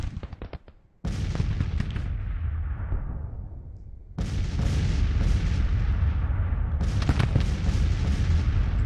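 Light artillery battery firing in the Civil War strategy game Grand Tactician, three heavy booming volleys, each a sharp blast followed by a long rumbling decay, with the later shots overlapping into a continuous roar.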